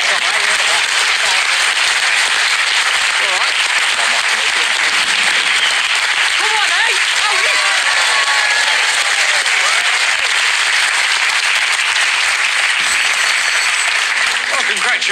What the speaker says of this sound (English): I really hope this is a big cheer.